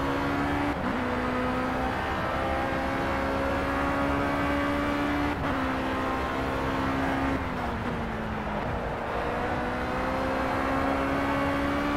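A race car laps Oulton Park circuit in a 50-mile race, its engine a loud, continuous close drone that rises and dips in pitch through gear changes and corners, with no talking.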